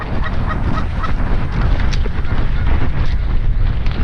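Canada geese honking loudly during an early-season goose hunt in Michigan, with repeated overlapping calls over a dense, noisy background and no talk.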